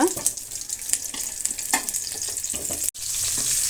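Cut bitter gourd pieces frying in oil in a pan, a continuous close sizzle with faint scraping stirs and a brief dropout before the hiss resumes.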